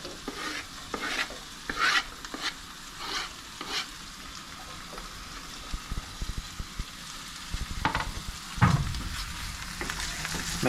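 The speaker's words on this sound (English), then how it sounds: "I'm gonna throw the onion in some butter that I melted in there" Chopped onion frying in melted butter in a pan, a steady soft sizzle with intermittent scraping and stirring clatter close by, no talking.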